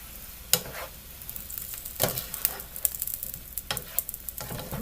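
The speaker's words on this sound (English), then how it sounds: "Let me stir it up and see." Spoon stirring a pot of chayote chowder: a few scraping clinks against the pot over a soft ongoing simmer and bubbling, the strokes spaced irregularly and fairly close.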